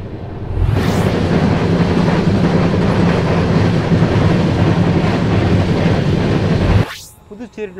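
Balaji Express train (Nagercoil–Mumbai CSMT, 16352) running on rails near Villupuram Junction, with a steady loud rumble and roar of carriages that rises abruptly, holds for several seconds, then cuts off near the end.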